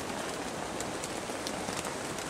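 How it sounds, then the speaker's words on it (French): Steady rain pattering on the canvas of a tipi tent at a bushcraft camp in France, a continuous close hiss with scattered drop taps and no voices. "Et là on peut voir que la pluie n'a pas cessé, comme on l'a vu juste avant."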